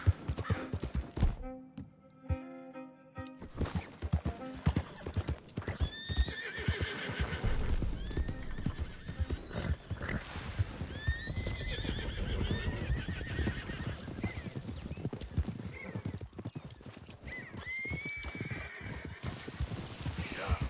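In Red Dead Redemption 2, a Kentucky horse's hooves clip-clop steadily throughout, with the horse neighing and whinnying several times over the trotting.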